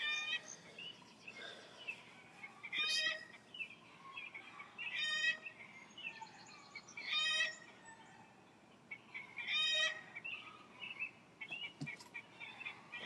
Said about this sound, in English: Every chicken out there is hollering and going on.